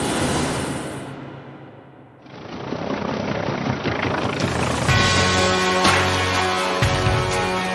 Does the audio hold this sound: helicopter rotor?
yes